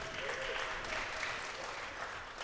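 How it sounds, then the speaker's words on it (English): Live audience applause at an Austin Eastsiders comedy and music show, a steady wash of many clapping hands filling the room without pause, moderately loud and even throughout. "Give yourself another round of applause for showing up and showing out."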